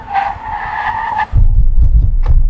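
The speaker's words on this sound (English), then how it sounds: "Brake test from 60 miles an hour." Audi Q7 SUV braking hard from 60 mph, tires squealing loudly for over a second before giving way to a heavy low rumble of the car settling, close and with no voices.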